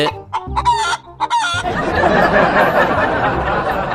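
A chicken clucks in a few short loud bursts, then a dense, continuous clamor of fowl fills the rest, close and loud with no talking.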